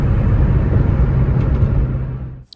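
A yellow Ford Mustang Mach 1 with a shaker hood drives along, its engine a loud, close, low rumble that holds steady before cutting off abruptly at the end.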